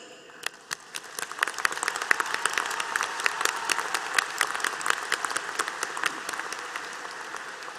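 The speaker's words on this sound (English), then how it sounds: "Please join me in giving a round of applause to our support systems that are here today." Applause from the audience at a university spring commencement ceremony, a sustained spread of many hands clapping at moderate distance, with sharp individual claps standing out throughout.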